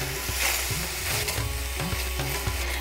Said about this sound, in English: Stir the sugar into the coconut.